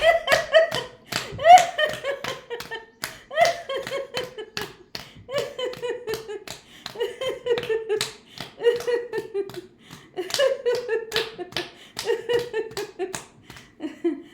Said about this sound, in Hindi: बीच बीच में हम एक ताली बजाते रहते हैं जो योग की ताली है